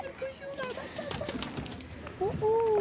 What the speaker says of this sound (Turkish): Bakın güvercin de var.